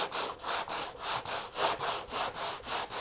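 Sandpaper rubbed by hand over hardened screw hole filler, a steady back-and-forth scratching of about ten even strokes, close and fairly quiet with no talk.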